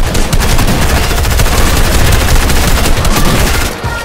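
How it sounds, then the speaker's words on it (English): Rapid automatic gunfire in a Fortnite match, loud and continuous bursts packed tightly together for several seconds with no talk over them. "Wait, I got shot."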